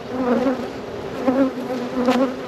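Honey bees buzz steadily throughout a spring hive inspection, a close, continuous swarm drone that rises and falls slightly in pulses, with no voices over it.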